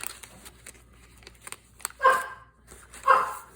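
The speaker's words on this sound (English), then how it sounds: "there's the dog" Two loud dog barks about a second apart, each a sharp burst standing out over faint rustling and handling noise, with no talk.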